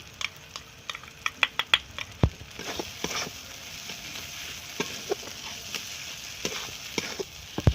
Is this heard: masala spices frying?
yes